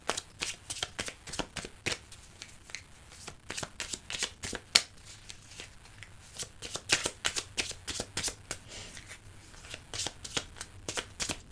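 Tarot cards shuffled by hand, a long run of quick, crisp riffling snaps and flicks in an uneven rhythm, close and fairly quiet, with no talking.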